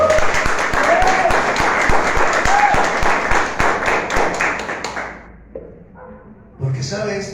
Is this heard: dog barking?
no